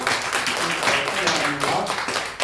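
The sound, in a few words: congregation applause welcoming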